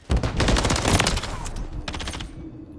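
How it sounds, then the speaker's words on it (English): Rapid bursts of automatic gunfire crackle in a Call of Duty ranked match, a loud dense volley of shots that thins out after about a second and a half, followed by a shorter second burst. "Bro, I'm shooting."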